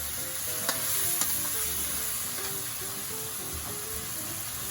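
Cooking wine poured into chicken frying in a pan for Taiwanese three cup chicken, giving a steady close sizzle with a couple of sharp clicks early on, no talking.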